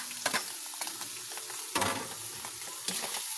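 Sliced pork intestines fry in a pan, a steady sizzle broken by a few sharp scraping clatters as they are stirred, close and without talk.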